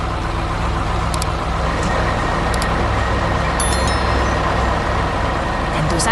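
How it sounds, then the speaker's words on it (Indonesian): A cement mixer truck works on a road-building site with a loud, steady engine rumble, with faint high beeps and clanks breaking through now and then. "itu pengaduk semen yang sedang bekerja keras membangun jalan untuk kita semua"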